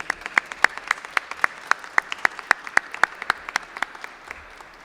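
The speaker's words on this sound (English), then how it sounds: "I think we owe them a round of applause" Clapping for healthcare workers at a Pennsylvania rally-day press conference comes as a steady, evenly spaced run of sharp claps, moderately close, with no talk.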